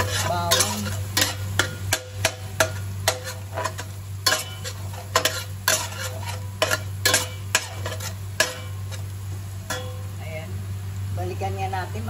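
Garlic sautés in a pan while it is stirred for a carbonara, with a steady low sizzle and many sharp, irregular scrapes and clinks of the utensil against the pan. A voice talks now and then.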